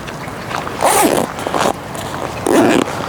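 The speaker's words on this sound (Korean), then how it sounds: "지퍼를 쭉" A zipper is drawn closed along the fabric cover of a 2.5 m 180-degree car awning, with two or three quick, raspy pulls rising out of soft background rustling close by.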